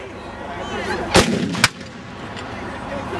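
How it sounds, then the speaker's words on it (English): Two loud 17th-century cannon blasts boom a moment apart during a historical display, each a sharp crack with a rolling echo over a quiet outdoor background. "And there goes the gun."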